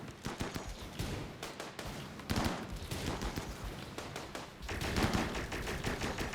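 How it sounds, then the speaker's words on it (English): Rapid bursts of gunfire crackle in the video game Rimworld, with dense overlapping shots and volleys continuing at moderate volume with brief lulls. "Just shoot the guns everywhere."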